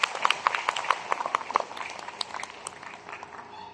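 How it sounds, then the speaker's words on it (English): A small seminar audience gives a round of applause, scattered sharp claps that are fairly close, clustered early and thinning out toward the end. "let's prove it by giving ourselves a round of applause"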